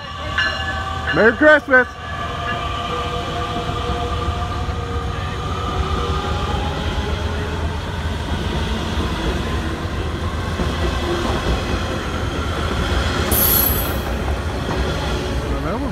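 An inbound Metra Electric commuter train passes on the old IC electric line in Homewood, Illinois, rumbling steadily close by with a short horn blast early on and a wheel squeal later, while a voice briefly speaks.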